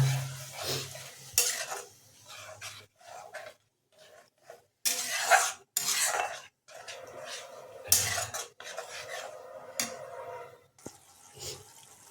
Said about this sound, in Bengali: এটাকে আমরা খুঁজে আরও কিছুক্ষণ নাড়িয়ে নেব